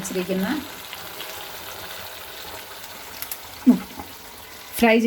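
Fried eggs tipped into a sizzling pan for Chinese egg chilli, a soft frying hiss with a couple of clattering knocks and a louder burst of sizzle and clatter at the end.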